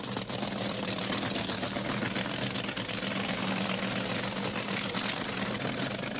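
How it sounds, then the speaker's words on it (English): Don Garlits' Swamp Rat top-fuel dragster idling at Santa Pod in 1976, an engine rated over 2,000 horsepower, giving a steady, dense, rough mechanical roar with no speech. "Garlits brings down his Swamp Rat dragster for his second mandatory qualifying run"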